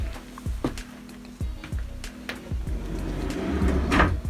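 A drawer on concealed-mount runners sliding in and out, a series of short knocking thumps and soft sliding rumbles spaced irregularly, nearby and moderately loud, swelling into a longer smooth run toward the end.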